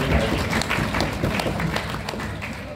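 An audience at an awards ceremony in a hall claps loudly and steadily throughout, a dense close wash of many hands with a little voice mixed in.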